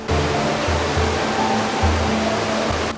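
Snowmelt pours as a waterfall beside the Kedarnath trail, dropping into the Mandakini river below; a loud, close, continuous roar of rushing water fills the whole stretch.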